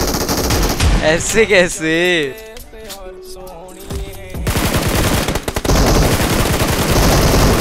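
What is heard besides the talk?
gunfire in a firefight, from the video game PUBG Mobile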